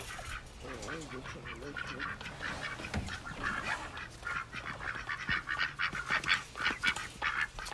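Backyard ducks and geese on a farm where eggs are being collected, giving repeated honks and quacks close by in an overlapping, irregular chorus.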